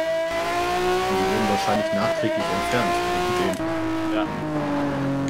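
A race car in Need for Speed Shift 2 accelerates hard off the start, its engine revving high and climbing through gears, loud and close, while someone talks over it.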